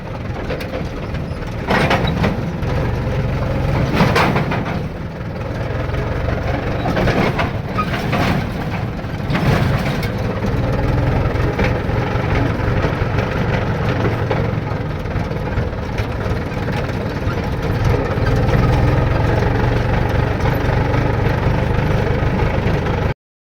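A tractor engine idles steadily at a fuel pump, a loud, continuous mechanical rumble with faint clanks, holding even for over twenty seconds with no voices.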